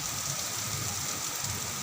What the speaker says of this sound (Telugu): గాలి ఉంది, వాన ఉంది.